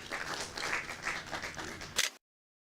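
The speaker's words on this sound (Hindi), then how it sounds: "ये जोरदार तालियां सीताराम जी के लिए बजा दीजिए।" An audience claps for an elderly farmer, Sitaram, on a farming quiz program, a brief crowd round of applause with uneven bursts, ending in a sharp louder clap before silence.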